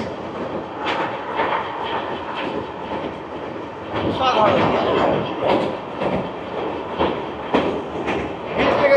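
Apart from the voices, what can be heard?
Sairang Kolkata Express train crossing a tall rail bridge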